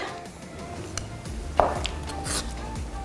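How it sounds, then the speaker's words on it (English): Knife chopping ingredients for kimchi stew on a cutting board, a few irregular, moderately loud cuts and taps against a low kitchen background. "let's cut up the remaining ingredients"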